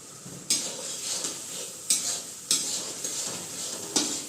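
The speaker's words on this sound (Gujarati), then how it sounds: "ધાણા જીરું સરસ રીતના બધું મિક્સ કરી દઈશું એકવાર" Coriander and cumin spices being stirred in a pan while making Kathiyawadi vagharelo rotlo, giving a soft hiss with about five distinct scraping strokes and no talking.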